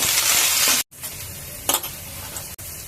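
Garlic frying in oil with chana dal, urad dal and peanuts, a close sizzle broken by a sudden cut and brief stirring scrapes.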